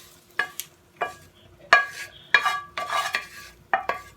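Stirring and scraping in a hot pan where egg is frying for stir-fried rice, with repeated close, rhythmic utensil strokes over a light sizzle.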